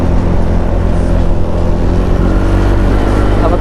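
Wind roars loudly past a motorcycle rider's helmet during a night ride, a constant heavy rushing noise mixed with engine drone that fills the whole stretch without a break.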